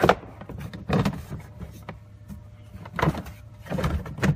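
Plastic door trim panel on a 2005-2008 Ford Escape Hybrid being slid and lined up into place, giving several close, sharp scraping knocks and rustles spaced through the clip with quiet gaps between.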